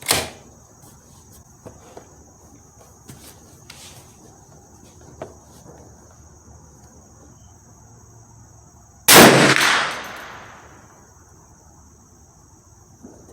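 A single sharp gunshot from a Hi-Point 1095 10mm carbine fired at an outdoor range toward a 100-yard target, loud and close with a short decaying tail, set against a steady background of insect or cricket chirping.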